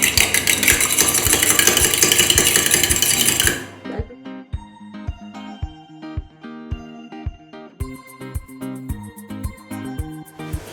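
Seasoned raw eggs with salt and black pepper are whisked in a bowl. A loud burst of busy mixing gives way to a steady rhythm of sharp utensil clicks against the bowl, with no talking.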